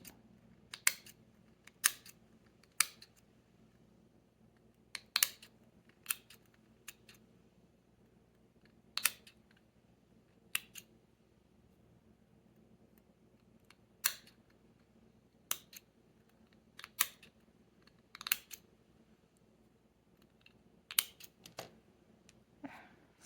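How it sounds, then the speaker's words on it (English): Scissors trim a quilled paper pom-pom on a paper snowman's hat, making a string of crisp, close snips at irregular intervals with quiet pauses between them and no talking. "I'm going to trim my hat a little bit."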